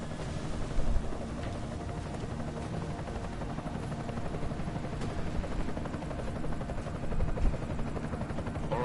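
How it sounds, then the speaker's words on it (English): Enemy helicopter in the video game Deus Ex, a continuous loud rotor thrum and turbine roar holding steady close by, with little else heard over it. "Enemy helo sighted."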